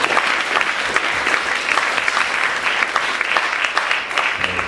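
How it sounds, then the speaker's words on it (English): A room of people applauds featured speakers at a community event, with loud, dense, sustained clapping and a faint crowd murmur beneath that carries through to the end. "We have one more round of applause to our featured speakers."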